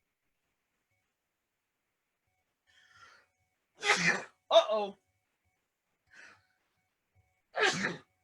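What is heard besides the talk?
sneeze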